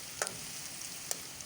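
Onions browned light brown fry with garam masala in a pan, a steady soft sizzle with a couple of brief clinks from stirring; no voices.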